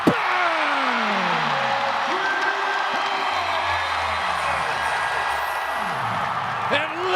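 A large crowd roars and cheers in a packed basketball arena during a Barangay Ginebra vs. Converge PBA game. The noise is loud and sustained and builds around sliding tones, with a brief thump near the end.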